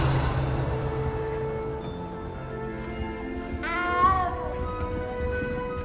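A single cat meow rising and falling in the middle of a quiet Hogwarts Legacy game scene, moderately loud over a soft ambient background hum.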